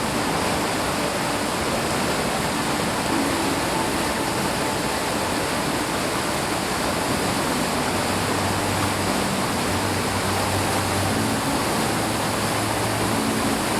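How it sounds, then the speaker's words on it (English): Rough white water rapids churning steadily as a canoe heads through, a dense continuous roar that stays loud and even throughout with no voices. "Really got a lovely bit of rough water here, real white water here."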